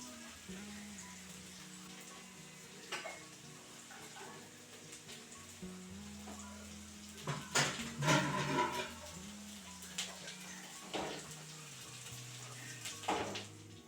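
Coated fish frying in hot oil makes a steady, soft sizzle, with louder crackling bursts rising and falling along with faint background sounds.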